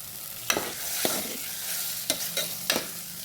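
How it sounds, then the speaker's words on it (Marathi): Boiled potatoes are sautéed in a pan with turmeric and salt for a dosa filling, giving a soft background sizzle and several sharp scraping stir strokes, spaced about a second apart, close by with no talking. "उकडलेले बटाटे त्यामध्ये घालून घ्यायचे त्याला परतून घ्यायचे मीठ घालायचं चवीनुसार"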